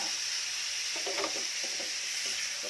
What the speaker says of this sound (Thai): ผัดผัดกระเทียมให้หอมก่อนเออ ใส่หมึกลงไปจ้า